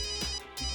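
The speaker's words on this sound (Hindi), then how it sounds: "मैं अभी फोन करता हूँ बिच्छू को, आई मीन फ्रेडी को फोन करता हूँ सर" A telephone ringback tone on an outgoing call, a steady electronic ring with a short pause, moderately quiet with no talking.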